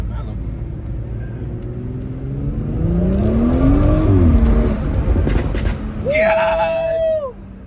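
A BMW 340 in Sport Plus mode accelerates hard, its engine note rising in a sweeping climb over road roar, then a sharp whine near the end, with voices talking over it inside the car.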